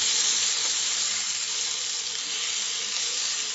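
Goan recheado-spiced mackerel frying in oil over medium heat, a steady dense hiss of sizzling throughout at an even level, with no voices.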